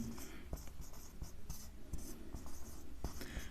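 Handwriting scratches out in short, quick strokes with small taps, close and fairly quiet. Faint voices murmur in the background.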